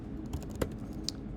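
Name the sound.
typing on a computer keyboard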